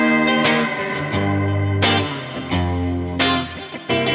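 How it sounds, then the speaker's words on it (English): Squier Jaguar electric guitar played with a whammy bar bend through heavy reverb: loud, sustained notes and chords that waver and slide in pitch, with new strums every second or so and a long wash of tail, no voices. "It's just like a whammy bar bend."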